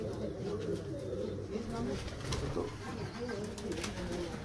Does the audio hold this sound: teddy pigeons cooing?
yes